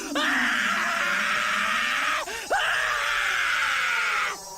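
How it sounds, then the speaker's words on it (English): A single loud, close human shriek held for about four seconds, with a brief dip and wavering break partway through before it resumes and cuts off. "Shriek loudly for at least about 5 seconds."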